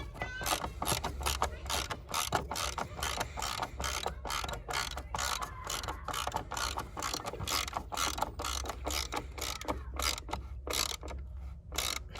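A ratchet socket wrench clicks rapidly and continuously at close range while working on the battery of a Ford Mondeo Mk5.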